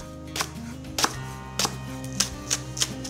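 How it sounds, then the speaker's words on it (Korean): Knife slicing green onion diagonally on a cutting board, a series of crisp, irregular chops with a low hum in the background. "대파는 어슷 썰어서 준비해 주세요"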